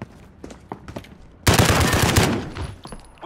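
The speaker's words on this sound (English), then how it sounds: "Yeah, this is an automatic weapon." Automatic weapon fire in a video-game gunfight, a loud sustained burst of rapid shots about a second long, preceded and followed by softer scattered game noises.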